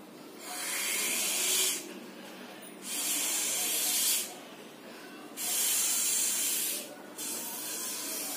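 Air blown through a straw into a balloon, three long breathy hissing bursts separated by short pauses, steady and fairly close, with no talk.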